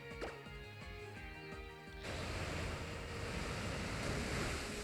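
Surf, the water-type move in the Pokemon X video game, bursts in after chiming music as a dense, loud, rushing wash of wave noise that holds steady for about three seconds.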